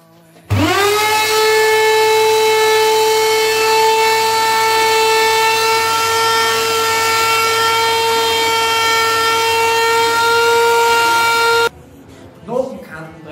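A power tool breaks the edges of wood while building a wooden memo-clip photo holder. Its loud, steady whine runs unbroken for about eleven seconds, then cuts off sharply, and a voice follows.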